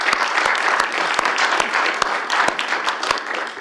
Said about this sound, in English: council and I will join for a minute of applause